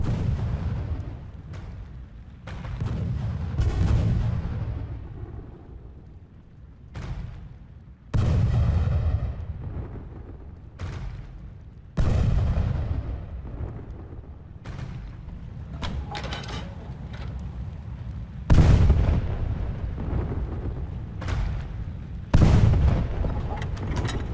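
Repeated heavy booms of Ottoman cannon fire in Age of Empires 2 recreating the siege of Constantinople, loud and close, with sharp onsets and rumbling decays at irregular intervals over a low continuous battle rumble.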